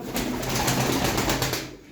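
Grey-mottled pigeons kept as a breeding pair, cooing softly and steadily up close, with no talk over them.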